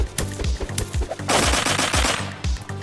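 Rapid bursts of gunfire from the blocky first-person shooter Blockpost crackle repeatedly, with a dense stretch of overlapping shots in the middle, loud and close, alone without speech.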